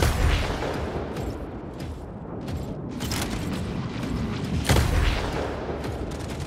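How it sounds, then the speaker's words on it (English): Incoming weapon fire in the Mech Arena mobile game: a dense, continuous barrage of booms and mechanical clatter, with sharper blasts standing out near the start, around three seconds and near five seconds. "Incoming fire."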